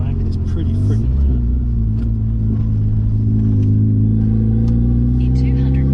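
Steady low exhaust drone from a turbocharged Mazda 323 Familia with an open dump pipe, a loud constant rumble heard from inside the car while driving, with a voice speaking over it.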